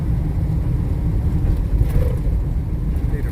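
A truck cruises along a rural road in Mississippi, a continuous low engine and road rumble inside the cab, with a voice talking faintly over it now and then.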